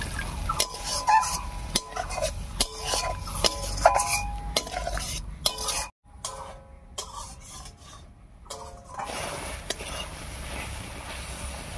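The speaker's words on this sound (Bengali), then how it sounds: "এবার একটু মশলা বাটা জল দিয়ে কষিয়ে নেব।" Ground spices stirred and fried with a splash of spice-paste water for an aloo-potol dish, quiet rhythmic scraping of a spatula against the pan with clinks and a soft sizzle, briefly pausing midway.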